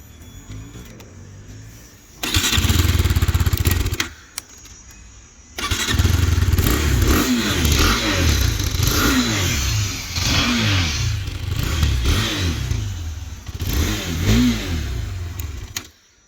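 A 2022 KTM RC 390 motorcycle starts up and idles, then its exhaust note barks through a series of sharp throttle blips and revs, loud and close, before cutting off.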